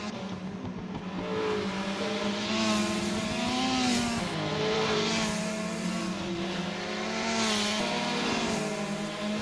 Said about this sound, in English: A three-way battle. VK Commodore, Mazda RX-7 against an XE Falcon.